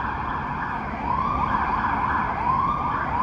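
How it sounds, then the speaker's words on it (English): An emergency vehicle siren wails on a city street between Millennium Park and Buckingham Fountain in Chicago, a steady rising and falling tone at moderate distance over constant traffic hum. "Here comes the siren there."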